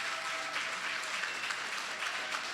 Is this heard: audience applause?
yes